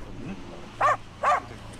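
A police sniffer dog gives two short, mid-pitched barks in quick succession, fairly close, over a low background hum with no talking.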